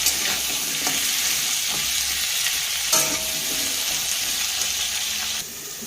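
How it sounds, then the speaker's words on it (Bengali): Vegetables and chunky eggplant pieces frying in a pan for a Bengali spinach dish, a steady loud sizzle with occasional stirring scrapes and clinks throughout, no talk. "সবজিগুলো ভাজা হচ্ছে, একটু ভাজা হয়ে গেলে এবার শাকটা অ্যাড করা হবে।"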